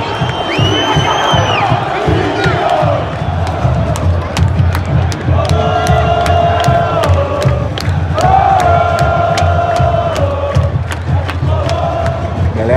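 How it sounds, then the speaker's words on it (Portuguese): Coritiba football supporters in a Paraná stadium chant and cheer loudly and continuously, with whistles, shouts and drumming across the crowd noise. "Torcida do Coxa"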